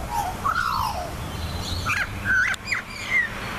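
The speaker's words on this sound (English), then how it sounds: "whoa, that bird's making hell crazy noises" An outdoor bird gives loud, varied calls, a string of rising and falling squawks and honk-like cries close by over a low background rumble.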